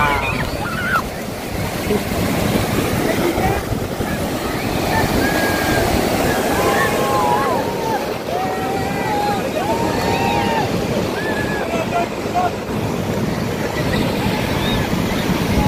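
Waves wash steadily onto the beach at Kelwa, a loud continuous roar of surf mixed with buffeting wind noise on the microphone, while a few voices call faintly in the background.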